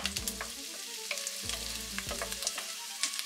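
Pieces of pork sizzle and fry in a pot for a spezzatino, a dense, continuous crackling hiss broken by a few scrapes and knocks of stirring, close up and with no talking.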